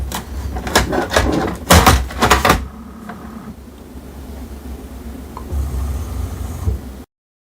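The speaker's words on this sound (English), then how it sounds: "Now on the printer, open the front door as well as the cartridge access door." The front and cartridge access doors of an HP DeskJet 2855e-series printer open in a quick run of close plastic clicks and clunks, followed by a quiet, low mechanical hum.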